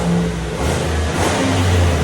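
A 2022 Chevy Silverado 2500HD with the 6.6L gas V8 on its stock exhaust revs steadily, a loud, continuous engine drone with rising and falling pitch, no talking.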